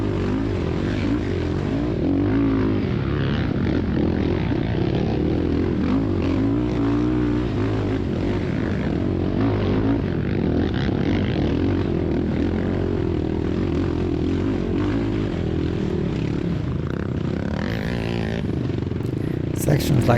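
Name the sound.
ATV quad engine racing uphill in a hare scramble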